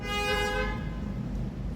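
A car horn on a Bangkok street gives one steady, loud toot that stops after about two-thirds of a second, leaving low traffic rumble behind.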